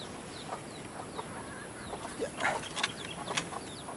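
Hens cluck softly in short, scattered calls against a steady outdoor hiss, fairly distant and faint, with a few louder clucks near the end.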